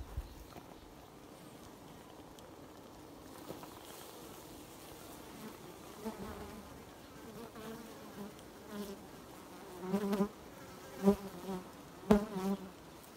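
Bees buzz steadily around a hive, a continuous insect drone with louder individual buzzes passing close by toward the end.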